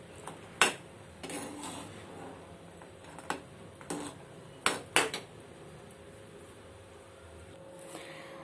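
Jowar roti biscuits dropped into bubbling jaggery syrup in a metal pan, giving a handful of sharp clinks and clatters at irregular moments over a faint steady hum, with no voices.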